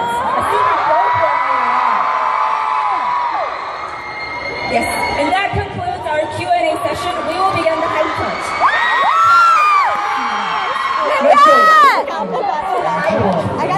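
A crowd of fans at a K-pop fan engagement event with Monsta X cheers and whoops continuously, high shrieks and shouts rising and falling over a dense roar of chatter, with some speech mixed in.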